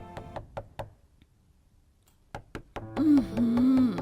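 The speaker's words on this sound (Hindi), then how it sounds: "अगली सुबह 5 बजते ही खटखट होता है।" Knocking on a door in an animated cartoon at five in the morning: three quick raps, a pause, then two more, before music and a voice come in.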